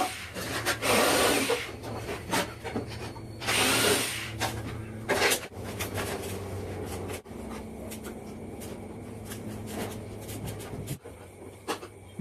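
Power drill setting hinges on the front door of a wooden lower storage unit, two loud whirring bursts early on, then steady scraping and handling noise with thuds.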